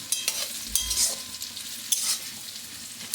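Cashews and raisins fry in a pan for dal, giving a soft sizzle broken by sharp stirring scrapes and clinks at irregular intervals, close up with no talking.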